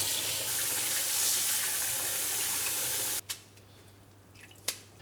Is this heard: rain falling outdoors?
no